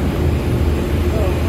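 An airplane rumbles at Cebu airport, a steady, loud engine drone with low hum filling the whole moment, heard from the ground without distinct events.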